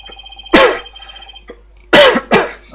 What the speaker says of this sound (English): I'm sorry, a cough.